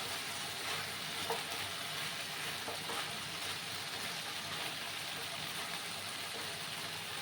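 Okra and potato fry in a pan in a steady, dense sizzle that never lets up, with faint scrapes from stirring and no voice over it.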